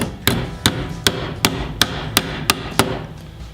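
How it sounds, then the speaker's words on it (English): A ball peen hammer taps a washer held on the edge of a vise, eight sharp metallic strikes at a steady, slightly quickening rhythm, close up, with no talk. "maybe take this ball peen hammer"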